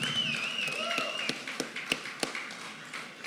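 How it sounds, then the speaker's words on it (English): A crowd at the Neshoba County Fair applauds, a dense wash of clapping that thins into scattered sharp claps, with a faint voice over the start. "Give yourself a round of applause for having the best commissioner in the state."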